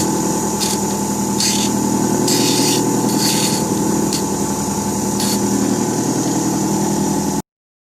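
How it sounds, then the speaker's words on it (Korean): A small electric rotary tool drones steadily as its wheel trims a part of a 1/6-scale Slam Dunk Kaede Rukawa figure, with a constant motor whine and intermittent scratchy grinding bursts as the bit touches the piece, close and continuous without talk. "나머지는 요 전동휠로 요 부분을 이렇게 다듬어 줄 거예요."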